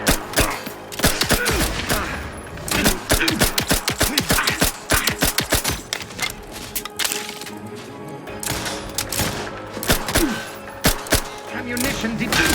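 Weapon fire from The Outer Worlds 2 rattles in dense rapid bursts, loud and close, with sharp repeated shots continuing throughout and brief pauses between volleys.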